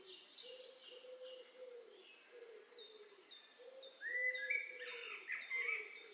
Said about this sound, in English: Really pretty with the bird songs.